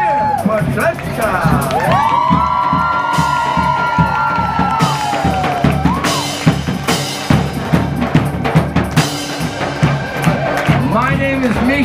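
A large crowd cheers and whoops loudly for Tresca at a live folk-rock show featuring German bagpipes, the roar sustained throughout with shouts and bagpipe-like tones sliding over it.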